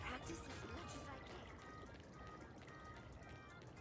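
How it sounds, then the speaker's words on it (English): Steady washing waves in a courtyard in the Honkai Star Rail game, with a continuous sloshing, trickling water sound that holds at an even level, while faint voices and game sounds run underneath. "Waves."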